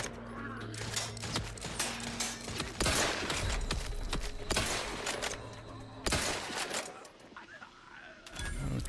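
Weapon fire through a grate in The Outer Worlds 2: repeated gunshot bursts in irregular clusters, loud and close, mixed with game effects while someone talks over them.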